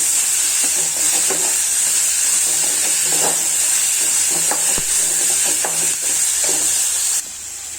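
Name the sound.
tomatoes frying and being mashed in pan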